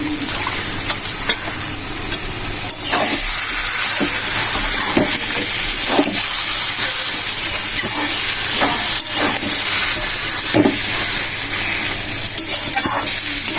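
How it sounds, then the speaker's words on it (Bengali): Fried shrimp stirred into eggplant bharta sizzle steadily in a hot pan, a continuous close hiss of frying with occasional scraping stir strokes throughout. "এবার ভেজে রাখা চিংড়ি মাছগুলো দিয়ে দেবো।"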